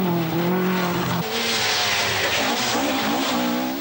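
A Vauxhall rally car driven by Tony Pond races on a British rally stage, its engine loud and close with rising and falling revs, a gear change, then a broad roaring rush as it passes.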